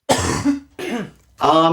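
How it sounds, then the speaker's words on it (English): Three quick, throaty coughs close to the microphone, each a short rough burst with brief pauses between them. "I'm just coughing"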